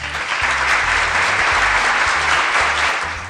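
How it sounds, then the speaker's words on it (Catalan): Sustained applause from a group, a dense, even clatter of clapping that holds steady for a few seconds before easing slightly, with a low background hum underneath. "Un aplaudiment!"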